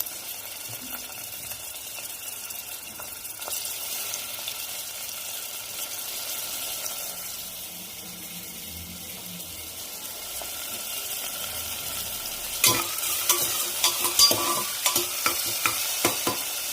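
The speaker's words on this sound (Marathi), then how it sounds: "कांदा परतून झालेला आहे. आता मी टोमॅटो टाकते." Onion and tomato fry in a pan with curry leaves while a spoon stirs steadily, giving a continuous sizzle with clearer scraping clinks near the end.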